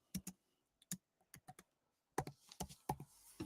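Irregular bursts of keys tapped on a computer keyboard, close and crisp, with a few isolated clicks, then a quicker run of keystrokes, with no talking.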